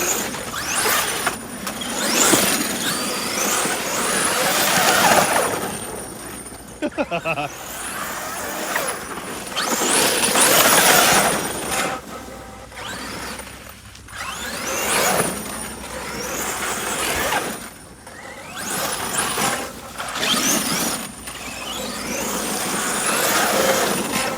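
A K8s Beast 1000 RC truck runs, its motor whining and surging in repeated loud bursts as it speeds up and eases off, with gritty wheel noise between the runs.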